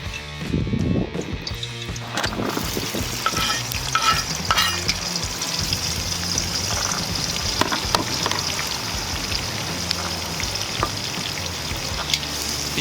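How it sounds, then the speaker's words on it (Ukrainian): Chopped onion fries in hot oil in a cauldron over an outdoor campfire, a loud continuous crackling sizzle with scraping stirs and a few clatters, close and without talk. "Піджарюємо її до золотистої коринки."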